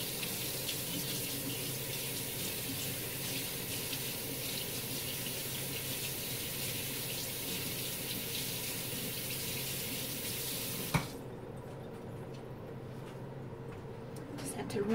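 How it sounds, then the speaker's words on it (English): Water runs steadily from a kitchen tap into the sink while a spoon is rinsed, a continuous broadband rush that stops abruptly near the end, with a brief clink. "Just had to rinse that spoon off"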